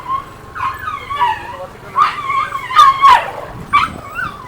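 Several dogs scuffle together, giving out shrill whimpers, yelps and whining cries in short bursts close by, with a person talking in between.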